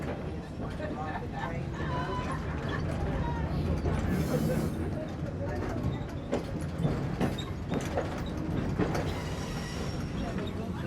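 A heritage train at a South Carolina railroad museum begins rolling westbound, a steady low rumble with clanks and rhythmic wheel clatter building under a speaking voice.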